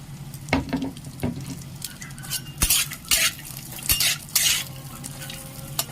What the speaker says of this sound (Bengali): প্রথমে আমি কাজুটা দিয়ে দিলাম, দুটো আমি একসাথেই ভেজে নেব।